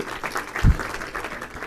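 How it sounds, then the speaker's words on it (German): Brief audience applause at a talk event on algorithmic decision-making policy, a soft, diffuse patter of clapping lasting under two seconds, fairly faint and distant. "Ein Applaus."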